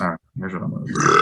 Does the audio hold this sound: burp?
yes